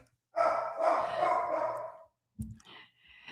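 Dogs bark and whine indoors, a drawn-out, fairly loud vocal burst followed by a short sharp bark and a softer whimper, close to the microphone during a live talk stream.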